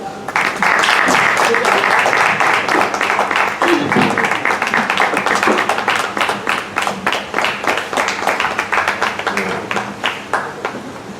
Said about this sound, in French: Joignez-vous à moi pour applaudir notre première dauphine Top Model of the World, Tania René.